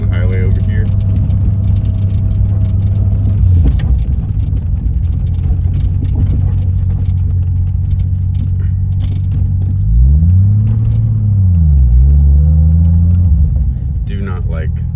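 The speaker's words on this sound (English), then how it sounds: "He also mentioned that this transmission does shift pretty hard." Toyota Supra with a hard-shifting transmission, its engine droning steadily while driving toward a highway, then a pitch sweep as revs drop and climb through a gear change; a loud, continuous in-car rumble.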